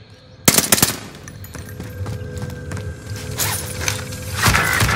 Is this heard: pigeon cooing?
no